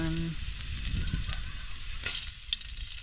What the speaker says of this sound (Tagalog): so gigisa na po natin. Gigisa muna tayo.